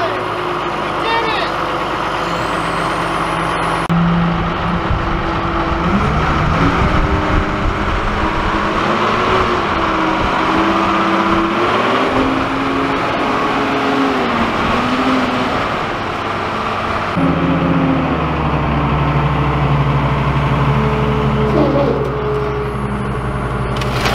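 A farm tractor engine cranks and catches, then runs with a steady low rumble and chugging throughout, loud and close, while children and adults talk over it outdoors on the farm.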